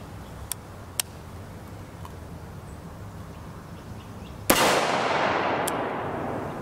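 A 5.56x45mm M193 rifle round hits a TYR steel armor plate in a single sharp, loud crack that leaves a lingering wash of noise, after faint distant shots and ticks in the open air.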